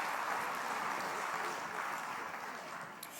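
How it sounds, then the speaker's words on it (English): Audience applause at an investment conference hall, a steady wash of many hands clapping at a distance that fades slightly toward the end. "A round of applause once more as they make their way off stage"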